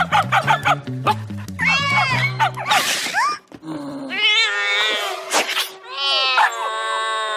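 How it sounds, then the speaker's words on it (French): A cat meows and caterwauls loudly and repeatedly, with rising, wailing calls following one another closely, in a scene where people are hunting for a supposed ghost. "Mais c'est un chat, votre fantôme."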